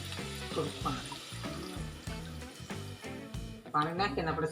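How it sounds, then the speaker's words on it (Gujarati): Water poured into a cooking pot of frying black chickpeas for a curry: a splashing, gushing pour over sizzling, with a voice present and a louder surge near the end. "હવે આપણે નાખીશું થોડું પાણી."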